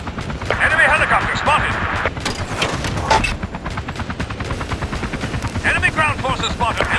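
Enemy helicopter in Battlefield 2 Special Forces on the Ghost Town map, a steady rotor drone running loud and continuous under bursts of gunfire and radio voice chatter.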